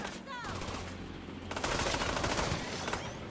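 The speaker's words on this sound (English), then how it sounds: "Getting shot from the side." Rapid gunfire bursts from The Division 2 strike the player from the side and back, dense crackling shots layered over game ambience and growing louder and more continuous in the second half, with a brief voice underneath.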